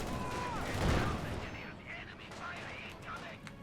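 Gunfire and grenade blasts in the strategy game Company of Heroes 2, with a burst of shots and a dull explosion near the start, then lighter scattered firing under a commentator's talk.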